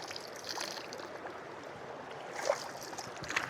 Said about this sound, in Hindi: सिर्फ मेरा आवाज़ और इस पानी का आवाज़ यहाँ पर गूंजता है